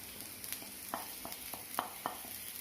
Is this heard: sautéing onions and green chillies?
yes